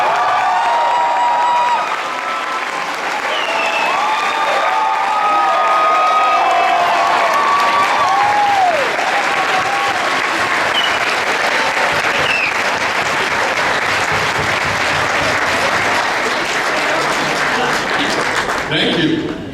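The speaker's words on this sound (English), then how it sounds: "Please give a warm round of applause for the writer, director, and producer of An American Werewolf in London" A live convention audience breaks into loud, sustained applause and cheering for film director John Landis, with a crowd roar and scattered whoops over continuous clapping, and speech in the room.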